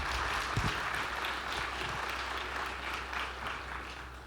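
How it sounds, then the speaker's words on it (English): Applause from a conference audience at a developer event, steady and dense, filling the room for several seconds with a constant low hum beneath it. "Can we have a round of applause?"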